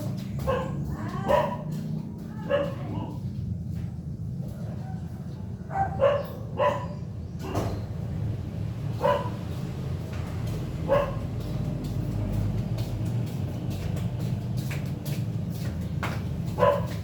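Several dogs bark in short, irregular bursts, some yips among them, over a steady low background rumble.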